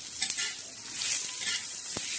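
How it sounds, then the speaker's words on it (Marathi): Crushed coconut and garlic dry-roasting in a pan give a dense, steady crackling sizzle, close and loud throughout, with one sharp pop near the end. "तर आता खोबरं आणि लसूण थोडासा ठेचलेला तो चांगला भाजणार आहे"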